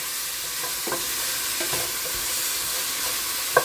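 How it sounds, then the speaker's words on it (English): Onion and cabbage frying in a pan, a steady close hiss of sizzling with soft scattered stirring scrapes and a sharp clink near the end. "let the onion cook for a while"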